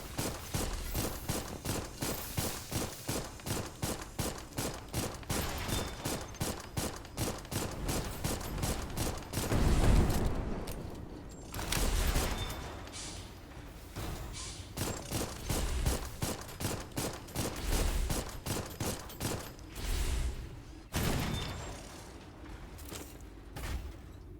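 Rapid rifle gunfire from a mecha-themed video game: long, steady bursts of sharp, loud shots in quick succession, with a few brief pauses and heavier booming impacts partway through.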